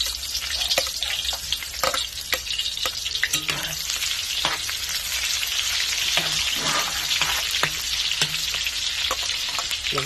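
Onions sizzle and crackle in hot oil while frying for pancit guisado, a continuous close hiss broken by frequent sharp stirring scrapes and clinks.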